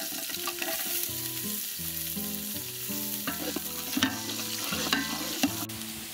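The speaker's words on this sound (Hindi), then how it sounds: "तो चलते हैं तड़का मार देने। सरसों तेल" Cumin, garlic and green chillies sizzle in hot mustard oil as a tadka for dal with ridge gourd, a steady bright crackle with occasional sharp pops beneath background music.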